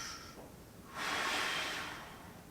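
During a hamstring stretch, one deep breath is taken: a soft inhale, then a longer, louder airy exhale that rises and fades, close and quiet with no talk.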